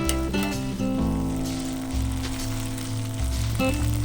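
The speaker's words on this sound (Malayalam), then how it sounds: "നന്നായിട്ട് ഫ്രൈ ആക്കി എടുക്കാം." Cauliflower pieces fry in oil in a pan with a loud, continuous crackling sizzle like rain on a surface, heard up close with no talking.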